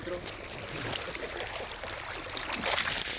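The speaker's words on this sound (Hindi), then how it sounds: "ये 3 इंची पाइप है रोल और ये पानी का प्रेशर है।" Water gushes from a 3-inch pipe fed by a 7.5 HP GK Energy solar pump, a loud, continuous rushing splash heard up close, with someone talking over it.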